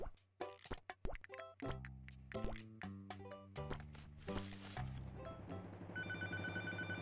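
Telephone in the video game Papa's Freezeria Deluxe, a bright sustained ring that comes in near the end, following a busy run of plopping, dripping clicks and bouncy game music, fairly quiet overall.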